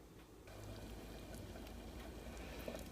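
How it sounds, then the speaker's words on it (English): A pot of water with eggs boils hard on a kitchen stove, giving a steady, dense bubbling rumble that runs the whole time at low level with no talking. "that was boiling pretty heavy"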